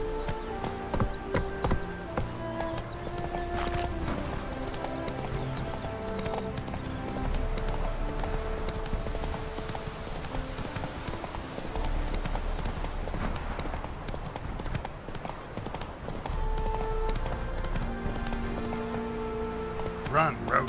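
Hoofbeats of the horse Roach galloping in Witcher 3, a fast continuous clip-clop rhythm close by, mixed with game music and ambience while a voice talks over it.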